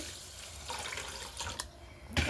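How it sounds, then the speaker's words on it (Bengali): Rice being washed by hand in water, a soft sloshing and swishing that comes and goes, with a louder splash right at the end. "দেখো প্রথমে আমি চালটাকে খুব সুন্দর করে ধুয়ে নিচ্ছি"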